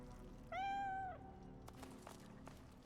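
A cat in the video game Divinity: Original Sin 2 gives a single clear, drawn-out meow, followed by quiet game ambience and a few faint clicks.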